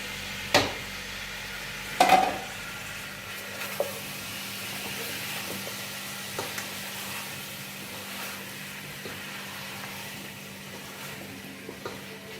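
Tomatoes go into a pan of mutton masala with potatoes, giving a faint, steady sizzle with a few soft knocks and stirring scrapes near the start, quiet and without talk.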